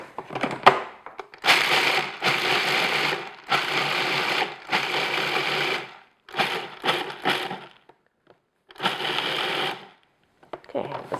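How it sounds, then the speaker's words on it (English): Food processor coarsely chopping almonds, sounding as a harsh, loud grinding whir in several pulses of one to two seconds with short gaps, plus one brief clatter at the start. "just gonna process until they're coarsely chopped"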